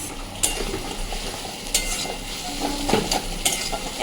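Fish roe curry being stir-fried in a pan, a steady close sizzle with a spatula scraping and clinking against the metal at intervals, no voices.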